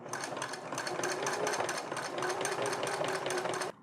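Sewing machine running through a thick folded layer of fabric, with a steady rhythmic needle clatter for nearly four seconds at close range, fairly quiet and alone.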